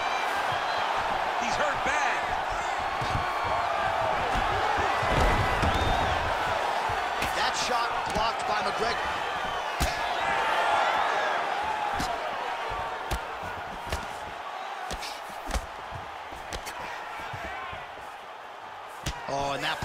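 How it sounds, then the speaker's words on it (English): An arena crowd roars and whoops in reaction to a punch during a Conor McGregor fight, a loud, sustained din with sharp impacts and cheers, while commentators talk over it. "punch elicited a reaction from the crowd."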